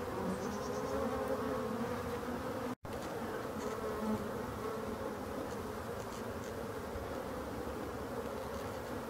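Honeybees buzz steadily in a dense, continuous drone as they fly around their hive while orienting, late in the season. The sound stays loud and close throughout, with a brief dropout near the start and no talking.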